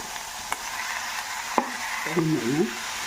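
Onions and garlic frying in a pan for a tomato and mint chutney, giving a soft steady sizzle with a couple of sharp utensil taps and a brief higher tone near the end.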